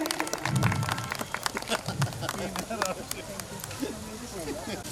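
An awards-ceremony audience at a Rotary club installation event claps steadily throughout, with a voice talking and calling out over the applause.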